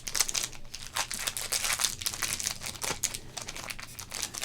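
Crinkling of foil sports card packaging, football card packs handled up close in a steady stream of crisp, crackling rustles with no talking.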